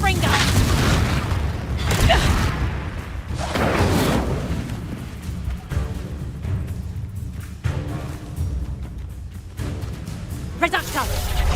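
Confringo spell blasts go off in Hogwarts Legacy on PS4: several heavy booming explosions land a couple of seconds apart, mixed with a voice talking over the game sounds.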